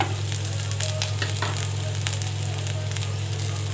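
Ingredients sauté in a kadai for village-style mutton kulambu, a loud, even sizzle with scattered spatula scrapes over a steady low burner hum, no voices.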